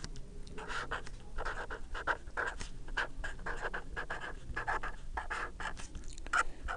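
A derivative is written out by hand, with rapid scratchy pen or marker strokes in short irregular bursts, close and steady, without speech.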